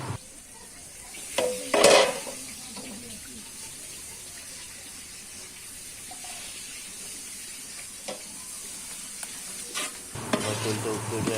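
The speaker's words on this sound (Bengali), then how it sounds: "এই অবস্থায় আমরা এই মশলাটাকে জাল দিব আর কি।" Biryani spice masala frying in oil on a wood-fired village stove, a steady low sizzle broken by a loud clatter near the start and a few spoon knocks, with running water toward the end.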